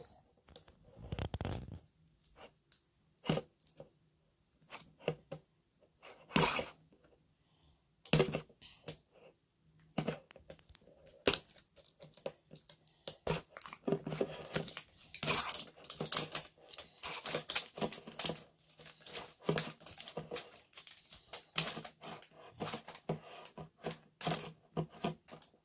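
Crisp plastic clicks, snaps and rustles from opening a Pokemon TCG PokeBall tin and handling its contents, sparse at first and then busier and denser in the second half, close and alone.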